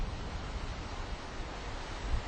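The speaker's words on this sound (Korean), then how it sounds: "금강산에 있는 폭포 중 가장 큰 규모로 유명한 구룡폭포" Guryong Falls, the largest waterfall at Geumgangsan, roars as a steady, dense broadband rush of falling water with no pauses or talk.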